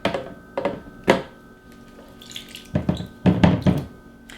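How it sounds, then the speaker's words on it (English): Buttermilk is strained out of homemade butter, giving a series of sharp, close wet knocks and splashes in uneven bursts with quiet gaps between them and no talk. "Now we just need to strain out the buttermilk."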